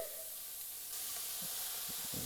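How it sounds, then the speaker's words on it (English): Vegetables dropped into a thin coating of hot vegetable oil in a large pot give a steady, close sizzle and hiss that grows louder partway through, with a few soft stirring knocks near the end. "we're going to drop in a small amount of vegetable oil just to get the bottom coated. And then we will drop in our vegetables."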